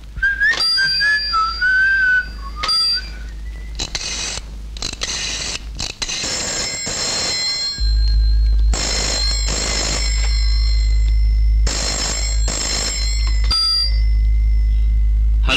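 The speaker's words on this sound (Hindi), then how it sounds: "मालती, तुम्हारा फोन।" A telephone rings in an indoor home setting, with repeated bursts of shrill electronic trills separated by short pauses after a brief whistled tune at the start.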